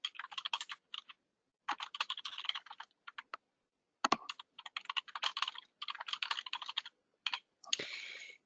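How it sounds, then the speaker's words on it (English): Someone types on a computer keyboard, entering company details, in quick close bursts of key clicks separated by short pauses, ending with a brief rattling press. "Here's where you're going to type in your basic company name, address, email, and other information."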